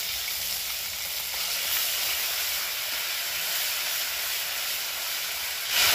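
Ground ginger and green chili paste sizzles as it hits hot oil with tempering spices in a pan, a steady loud frying hiss that holds evenly, with a brief louder flare at the end.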